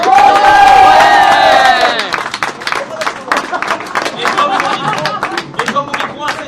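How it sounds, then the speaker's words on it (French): A loud crowd at a Street Fighter IV final at Japan Sun 2013 cheers and applauds, starting with a sustained shout over a dense roar, then breaking into scattered clapping and whoops, with voices mixed in. "on applaudit encore Big Matt"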